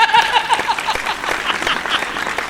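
Dense, steady audience applause fills a Hindi comedy poetry gathering, a hasya kavi sammelan, with a voice briefly audible at the start before the clapping carries on evenly to the end.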